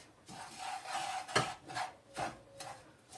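A utensil scrapes and rasps through a toasted mixture in a hot pan, cooked as a topping for plum dumplings, in several slow, rhythmic close-up strokes with no talking.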